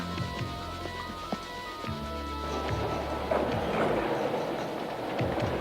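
A train rolls along steadily with rumbling and faint rhythmic clatter, a continuous mechanical din with no voices.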